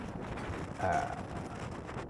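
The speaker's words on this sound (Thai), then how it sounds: "ลมแรงมากอย่างที่เห็น" Strong wind buffets the microphone on the Yoshida trail up Mount Fuji, a steady broadband roar that swells briefly midway, with no talk over it.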